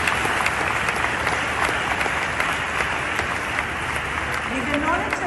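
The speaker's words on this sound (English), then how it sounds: "Big applause for everyone." Dense, sustained audience applause at a travel and tourism industry event, a steady wash of many hands clapping at a constant loud level throughout, with no breaks or voices standing out.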